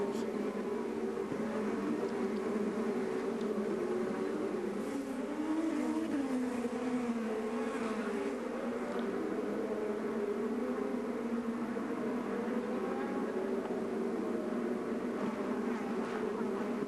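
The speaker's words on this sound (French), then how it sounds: "Mais là, oh, Power qui dépasse Franchitti" IndyCar race cars scream past at the Honda Indy Toronto street race, high buzzing engine notes rising and falling as several cars pass in turn, heard from a distance over a constant crowd and track wash, with faint commentary underneath.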